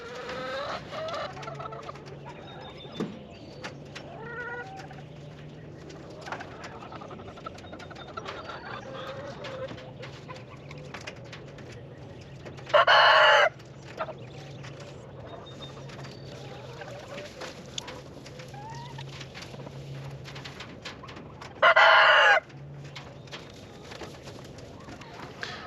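Chickens of a pasture flock cluck softly and steadily at a distance, and a rooster crows loudly twice, well apart, over an outdoor hum.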